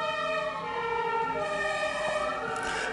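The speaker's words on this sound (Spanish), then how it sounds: "se está escuchando unas sirenas de carro bombero" Fire engine sirens wail in rising and falling tones, heard from outside at moderate distance, continuous throughout.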